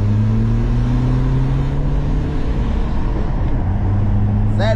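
A BMW 320d diesel engine revs loud and close, its steady drone sliding gradually upward in pitch and holding high, with no voices over it.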